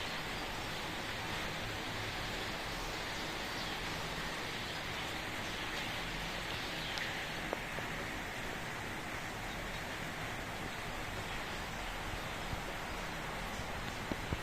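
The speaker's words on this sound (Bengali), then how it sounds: "দেখতেই পেলে কেমন পরিমাণে বৃষ্টি হচ্ছে।" Rain falls steadily outdoors as an even, continuous broadband hiss, fairly soft and unbroken, with no voices.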